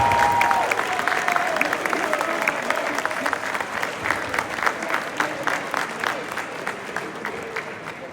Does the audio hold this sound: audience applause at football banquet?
yes